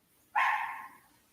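A single sharp dog bark, close and loud, with a short tail fading after it and no voices around it.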